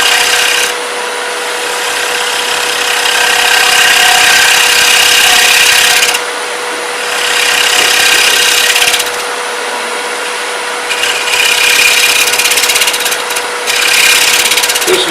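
A wood lathe gouge rides its bevel into a light cut on a spinning sushi platter with wings, a loud hissing scrape in long bursts with short pauses, over a steady motor hum.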